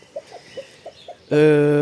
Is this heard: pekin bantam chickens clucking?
yes